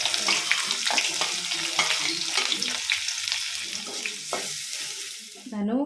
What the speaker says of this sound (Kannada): ಸೊ ಹಾಗಾಗಿ ಸಪ್ರೇಟಾಗಿ ಇವಾಗ ಫ್ರೈ ಮಾಡಿ ಹಾಕೋತಾ ಇದ್ದೀನಿ